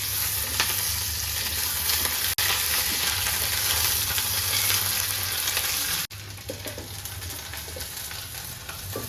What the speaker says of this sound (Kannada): ಈಗ ಎಣ್ಣೆ ಕಾಯ್ದಿದೆ, ಇದಕ್ಕೆ ಈರುಳ್ಳಿ ಹಾಕ್ಕೊಂಡು ಇದನ್ನು ಫ್ರೈ ಮಾಡ್ಕೋಬೇಕು.